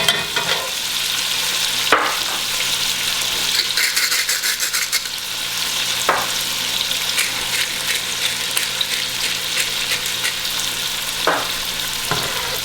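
Garlic and onions sizzle steadily in a hot pan with salt and pepper, a continuous close frying hiss broken by a few scraping stirs, with no talk over it.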